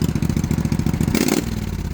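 A 16 hp Vanguard V-twin lawnmower engine taken from a Cub Cadet, fitted to a mud-racing mower with swapped pulleys, runs loud and close with a steady rapid pulsing, then revs up briefly with a clattering rise before settling back.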